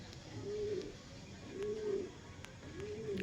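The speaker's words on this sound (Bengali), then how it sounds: "পায়রা সব খাওয়া দাওয়া কমপ্লিট, এখন সব আপন আপন খোপে ওরা চলে গেছে" Pigeons coo in their coops in three slow, rolling phrases spaced about a second apart, with soft rustling and faint background noise between them.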